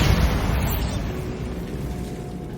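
Bombarda explosion spell going off in the video game Hogwarts Legacy: a loud, rumbling blast that hits hard at the start and then rolls and decays slowly over a couple of seconds, with no voices.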